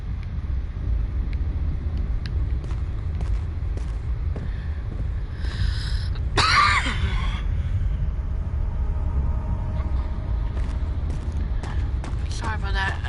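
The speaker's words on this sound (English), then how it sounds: "Sorry about that cough," A single harsh cough bursts out about halfway through, over a steady low rumble of dark, eerie game ambience from Amnesia: The Dark Descent.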